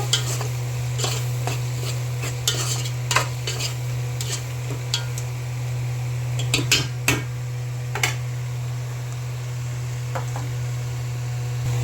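Grated raw mango stirred in a cooking pan for fish curry, with scattered scrapes and knocks of a spoon against the pan over a low steady hum and soft sizzle, close by and without talking.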